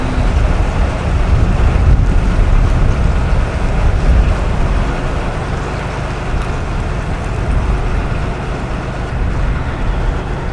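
A DIY narrowboat cruises with its throttle opened up, giving a loud steady engine rumble mixed with wind buffeting on the microphone, with no voices.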